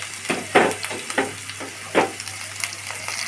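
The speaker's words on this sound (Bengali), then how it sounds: "পেস্ট কুচি রসুন কুচি দিয়ে নেড়ে চেড়ে একটু লাল লাল করে ভেজে নেব" Garlic and ginger paste with chopped garlic fries in a pan, a constant sizzle broken by several stirring scrapes at an uneven pace.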